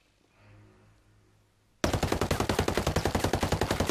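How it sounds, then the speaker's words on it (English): An MDR rifle in Ghost Recon Breakpoint fires full auto from 25 meters, a loud rapid unbroken burst of shots that starts abruptly after near silence and runs to the end. "Here's me shooting it full auto from 25 meters."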